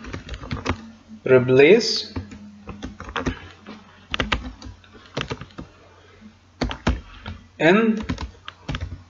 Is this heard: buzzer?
no